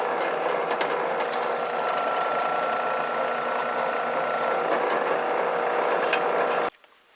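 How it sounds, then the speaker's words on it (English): A scroll saw cuts through wood with a rapid, steady reciprocating buzz that chatters evenly for several seconds, then stops abruptly, leaving near silence. "Okay, we got the scroll saw up."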